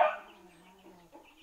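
Young meat chickens, about eighty birds, peep and cluck inside an indoor brooder, with a louder burst of chick calls at the start fading to a steady, soft chorus close by.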